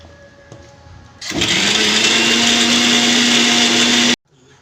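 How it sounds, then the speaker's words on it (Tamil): A mixer grinder grinding roasted gram for curry starts abruptly, runs loud and steady for about three seconds with a high whine, then stops dead, leaving quiet kitchen sounds. "ஒரு ஒரு பதினஞ்சு இருபது பொட்டுக்கல்ல போட்டு அரைச்சிக்கணும்"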